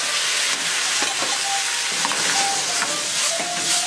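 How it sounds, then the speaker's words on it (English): Canned black beans hit browned garlic in a hot pan, setting off a continuous sizzle and hiss with scattered stirring clicks and scrapes, close and steady, no talk. "All we're going to do is we're going to add your black beans, that 1 can amount."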